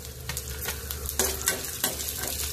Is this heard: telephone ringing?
no